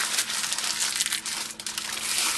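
Parchment paper crinkles and crumples continuously as a sheet rolled around marzipan is twisted at both ends into a tight package, close and fairly loud with no pauses.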